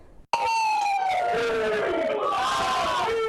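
A packed crowd at a Montana Seahawks watch party lets out a sudden loud roar of cheering and whooping that stays close and sustained for several seconds.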